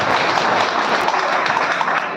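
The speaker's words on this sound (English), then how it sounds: "Please, it needs a big round of applause" A large audience at an engineering award ceremony at Rashtrapati Bhavan gives sustained applause, a dense, steady wash of many hands clapping with no pauses.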